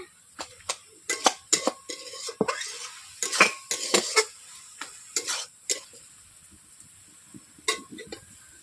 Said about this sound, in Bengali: বন্ধুরা ঢাকনা খুলে আমি হালকা করে নেড়ে নিচ্ছি এইভাবে।